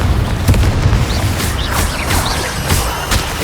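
Fiery Confringo blast spell in the Hogwarts Legacy video game: a loud, sustained rumbling boom with crackling bursts and bright whooshing streaks, dense and continuous throughout, close and heavy in the low end.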